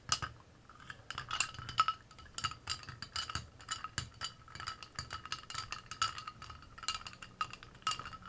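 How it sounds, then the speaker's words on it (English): Cocktail with ice being stirred in a glass, a quick run of light clinks and rattles of ice against glass, close and quiet with no voices. "give it a quick stir, and then top it with your Coke"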